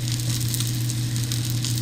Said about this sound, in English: with the skillet, you can hear the sizzling. I have the skillet nice and hot.